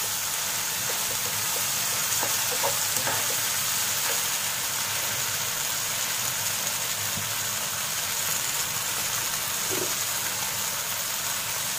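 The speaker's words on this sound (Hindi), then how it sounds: "टमाटर को भी हम 2-3 मिनट फ्राई कर लेंगे और थोड़ा अच्छा सॉफ्ट हो जाने तक।" Tomatoes fry in a pan for aloo keema masala with a steady, even sizzling hiss throughout, broken by a few faint scrapes and clicks of stirring.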